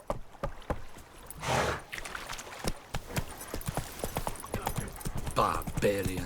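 Horse hooves clip-clop steadily in the video game The Witcher 3: Wild Hunt, a close, even rhythm of sharp hoofbeats with a brief rushing swell, while a character speaks over them.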